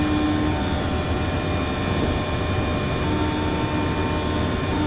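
Jet airliner engines roaring steadily during the takeoff roll and rotation departing Chicago Midway, a loud continuous hum with a sustained tonal whine, close and unbroken.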